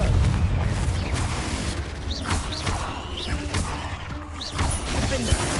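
Blasting spell explosions in a Harry Potter video game, a dense rumbling wash of booms and crashing debris with several sharp bursts, loud and continuous throughout.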